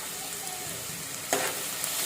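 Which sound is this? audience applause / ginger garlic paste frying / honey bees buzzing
ginger garlic paste frying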